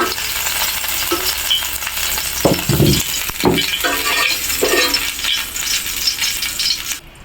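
Foli fish fries in oil in a pan with a loud, close, continuous sizzle, broken by a few sharp metallic clinks and scrapes of a utensil against the pan.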